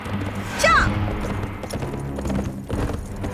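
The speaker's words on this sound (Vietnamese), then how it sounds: "Ma Lạc, con nhìn xem, mau nhìn con ngựa đó đi, Ma Lạc." Horse hooves clip-clopping in a steady rhythm beneath a busy outdoor scene, with a brief whinny-like call early on and no speech.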